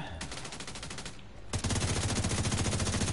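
Sustained rapid automatic gunfire rattles during a firefight in The Division 2, a fast even burst that pauses briefly and then resumes louder and heavier, close and continuous, with faint voices underneath.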